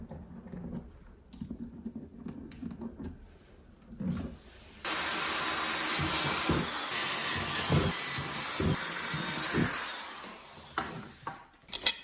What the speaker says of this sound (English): Once you've drilled the center holes